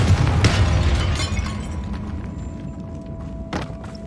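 A Confringo blast spell going off in Hogwarts Legacy, a loud booming burst up front with crackling debris that fades into a lingering rumble, followed by a sharp later crack.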